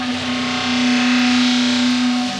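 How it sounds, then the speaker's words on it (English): A bass line drenched in a Clouds reverb effect plays as a steady, sustained low tone under a dense, washy, distorted texture that stays loud and continuous throughout. "Then the big thing here is the clouds reverb"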